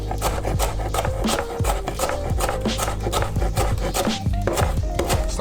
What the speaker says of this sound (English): And then I cut up my broccoli rabe.